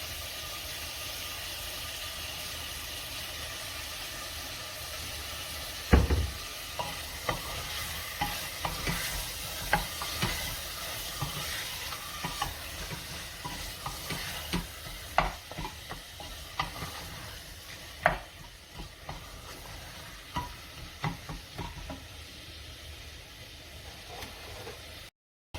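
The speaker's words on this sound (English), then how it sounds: "Continue to mix well for 1 to 2 minutes." Chopped lamb curry with salt being stirred in a pan, frying continuously with scraping stir strokes and occasional knocks of the spoon, including one louder thump early on, close and steady with no talking.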